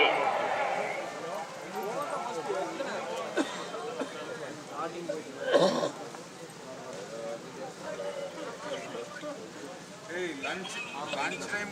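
Racing horses galloping in a horse cart race, a running clatter of hooves heard at a distance under loud crowd chatter and an announcer's voice.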